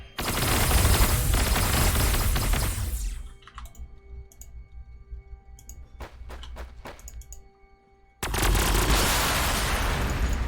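Rapid volley gun fire from the Warhammer 40k Sanctus Reach strategy game: a dense, loud burst of crackling shots, then a quieter stretch with sharp scattered reports, before another heavy roaring barrage.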